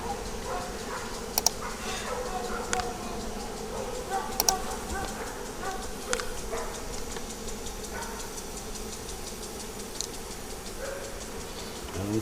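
Honey bees buzz around queen cages in a steady close drone with a few sharp clicks and knocks, and faint voices occasionally in the background.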